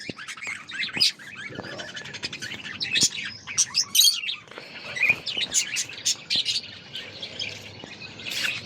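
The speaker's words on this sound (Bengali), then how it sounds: "এই যে আমাদের পাখি।" Pet birds chirp on a foggy rooftop where pigeons are kept, a busy run of close, bright tweets and short squawks with brief pauses, heard alone without talk.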